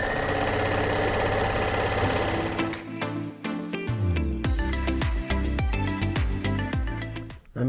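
Sewing machine stitching a chenille quilt with a short 2.0 stitch length down the center of tape, a loud steady mechanical whir that runs alone, then shifts into faster, more broken bursts of stitching near the end.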